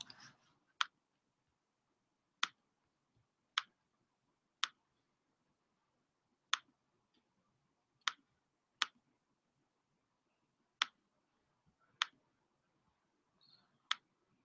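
Crisp, isolated computer mouse clicks during a web lecture, about a dozen sharp taps spaced irregularly over near silence, close and clear.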